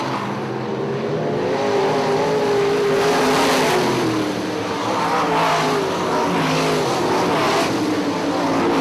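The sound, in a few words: IMCA modified race cars racing at Ionia Raceway Park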